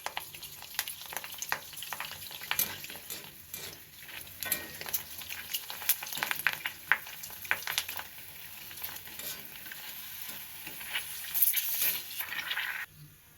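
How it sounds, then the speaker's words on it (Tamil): Puris deep-fry in hot oil with a dense, crackling, bubbling sizzle that runs continuously up close, rising and falling slightly in intensity. "பூரியை பொரிச்சு எடுத்துக்க போகிறோம்."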